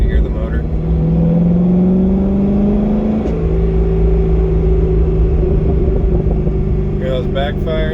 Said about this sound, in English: now the car's warmed up, you guys can hear the motor.